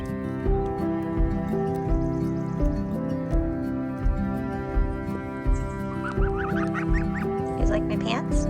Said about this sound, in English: I wanted these geese more than Dave did